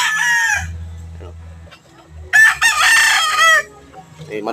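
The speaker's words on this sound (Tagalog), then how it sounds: "Dito sa manukan niya. Ayan yung mga manok niya." At a fighting-cock breeding farm, roosters crow loudly and close by, two long cock-a-doodle-doo calls separated by a quieter stretch of clucking and low background sounds.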